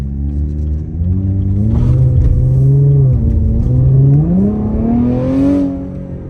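A 2020 Chevy Camaro RS engine revs while driving, loud and close, the pitch climbing and settling through gear changes with a throaty rising drone and no talking.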